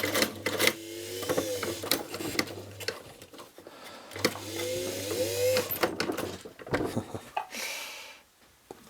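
A sewing machine labours to stitch through two thick layers of canvas and webbing while modifying a West German Bundeswehr haversack, running in two long strained bursts with a steady hum and clattering needle, close and fairly loud.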